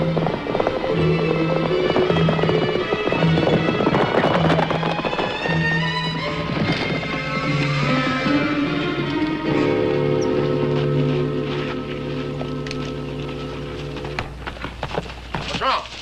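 Horses gallop hard across open country under a Western film score, hoofbeats thudding steadily and loud beneath layered music, with some sharp cracks mixed in.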